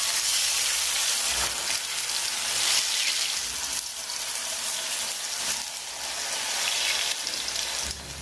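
Raw plantain slices frying in a panful of hot oil for vazhakkai varuval, a loud, continuous close-up sizzle with crackling spits that rises and dips but never stops, no voices over it.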